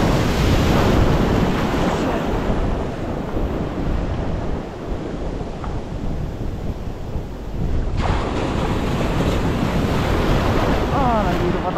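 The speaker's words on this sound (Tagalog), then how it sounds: "Nandito pa tayo sa pasagan ng alon." Loud, continuous surf washing in at the shoreline with strong wind buffeting the microphone, a steady broadband roar that dips slightly midway and surges back, with no voices.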